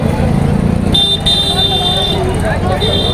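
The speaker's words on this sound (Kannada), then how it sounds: "ಎಂಥ ಹಾರ್ನಪ್ಪ" A car horn honks in long, steady blasts with a short break between them, over traffic rumble while a person talks, at a temple fair in Mylara.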